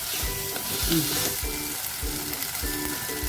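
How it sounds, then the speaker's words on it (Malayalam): Tomatoes frying for a Kerala-style fish curry give a continuous loud sizzle, broken by rhythmic scraping strokes of a spoon stirring the pan, with no one speaking. "തക്കാളി ഒന്ന് നന്നായിട്ട് വഴന്ന് വരണം"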